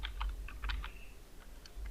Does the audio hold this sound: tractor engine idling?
no